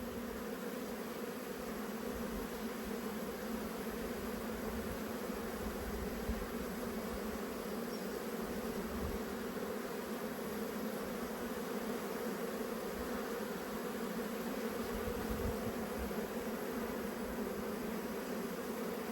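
Honey bees drone loudly in an open hive, a dense, steady buzzing that holds without pause from start to finish, close and alone.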